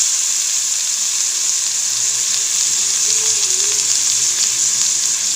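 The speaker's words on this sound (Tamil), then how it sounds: "தக்காளி வந்து நல்லா வதங்கணும்." Tomatoes sautéing in a hot pan for a baby's vegetable soup give a loud, steady sizzle and hiss that runs unbroken throughout, with no voices.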